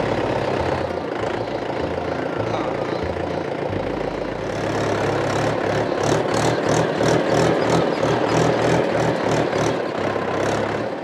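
A tractor engine runs on a farm ride in Alappuzha, a loud, low, steady diesel rumble that becomes rhythmically chugging partway through, close and continuous, with no talking.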